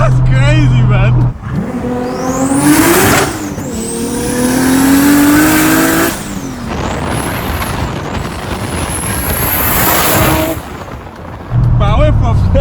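A stroked 2.8-litre Nissan R33 GT-R V-Spec making 800 hp revs hard and loud, rising whooshing turbo pulls with hissing blow-off, while voices talk at the start and end.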